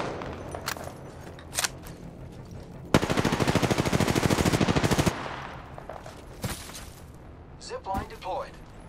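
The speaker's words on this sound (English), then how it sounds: "Contact with target. Opening fire." Automatic gunfire from the Apex Legends video game, played on Xbox One X, rattles out in one sustained close burst of about two seconds, framed by a few single shots and a voice line from the game.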